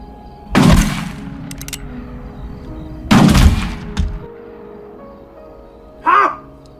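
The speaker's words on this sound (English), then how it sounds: "blasts it with his shotgun" Two loud, sharp shotgun blasts from a double-barrel shotgun in a 1995 horror film, fired about two and a half seconds apart, each with a short decaying tail, followed by a brief sharper noise.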